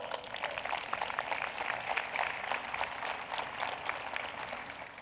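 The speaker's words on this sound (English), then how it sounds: "Let's give them another round of applause" A crowd at a 2020 high school commencement ceremony gives the parents a round of applause, dense continuous clapping from many hands, steady and fairly loud, with no talk over it.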